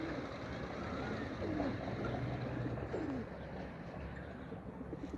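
Pigeons at a tumbler-pigeon flying site give soft, low coos a few times over a steady outdoor background hiss, faint and somewhat distant.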